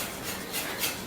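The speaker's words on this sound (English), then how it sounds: "So you keep whisking until everything is neatly mixed." Whisk scrapes and rubs through a mixture in a bowl, a soft steady swishing rasp that stays quiet and continuous for about a second with no voices.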